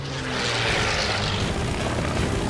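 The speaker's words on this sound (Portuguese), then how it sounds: "O motor Merlin do Mustang acelerou a mais de 720 km por hora" A P-51 Mustang fighter with its Merlin engine dives at high speed, a loud, steady propeller-engine roar under rushing air throughout, with no voices.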